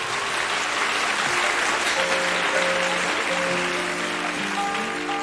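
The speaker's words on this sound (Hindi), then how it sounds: "ज़रा तालियों से इस्तकबाल कीजिएगा।" Audience applause welcoming a sarangi player on stage at a ghazal concert, a dense steady clapping wash with sustained instrumental notes sounding underneath.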